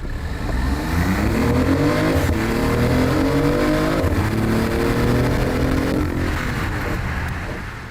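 A continuous synthetic engine drone from a car with a 1.5-liter three-cylinder engine, played through its speakers, rising and falling in pitch like a revving sports car, loud and steady for several seconds.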